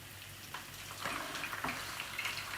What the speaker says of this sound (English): You can hear that sizzling away.